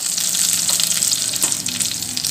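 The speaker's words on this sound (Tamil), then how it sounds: "இப்போ நம்ம சேர்த்துருந்த கடுகு உளுந்தம்பருப்பும் நல்லா பொரிஞ்சிக்கிட்டு இருக்குங்க." Mustard seeds and urad dal sizzling in hot oil for a tomato coriander chutney tempering, a steady close hiss and crackle with scattered pops throughout.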